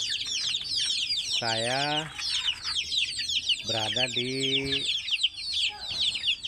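Backyard coop chickens clucking close by, with two drawn-out harmonic squawks over a constant chatter of high chirps from many birds; someone speaks briefly near the end.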